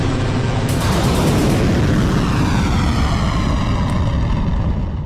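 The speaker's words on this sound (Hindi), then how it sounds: "सन्नाटे को चीरती मिसाइल का शोर हुआ।" A missile streaks overhead with a loud, sustained roar that sweeps and shifts in pitch as it passes, filling the whole clip with no voices.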